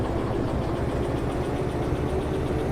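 A locomotive backing up in the Derail Valley train game gives a steady, loud engine drone with a low rumbling idle, continuous and unbroken with no talk over it.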